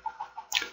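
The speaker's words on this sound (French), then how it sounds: "Je vais attaquer les poulets par contre." A Minecraft chicken gives a few quick, soft clucks in a steady rhythm, then a brighter squawk at the end, heard alone with no voices.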